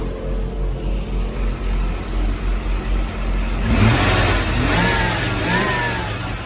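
A Chevrolet Corvette C4 with the L98 engine idles, then revs up in a couple of rising blips partway through before settling, close and fairly loud.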